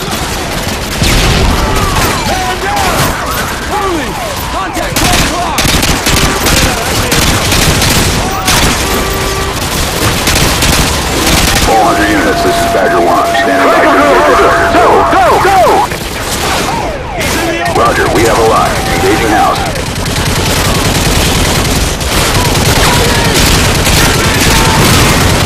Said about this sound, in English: Squad, put suppressing fire on that house.